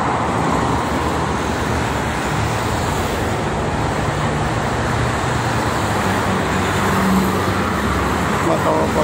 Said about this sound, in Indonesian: banyak bis pariwisata.